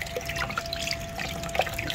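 Running tap water splashes and trickles steadily while tilapia fish is washed in a sink, a continuous close wash of water with small drips and splashes throughout.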